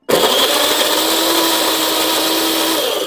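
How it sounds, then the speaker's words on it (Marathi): An electric mixer grinder blends onion and tomato into a paste in a home kitchen, whirring loudly and steadily for a few seconds after starting abruptly, with no talking over it. "आपण बारीक करून घेऊया मिक्सरमध्ये जे कांदा आणि टमाटर"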